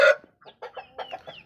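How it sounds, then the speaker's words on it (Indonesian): A rooster that has been wheezing from a cold gives a sharp loud cluck, then a quick series of short nasal clucks close to the microphone. "Ayam jalu."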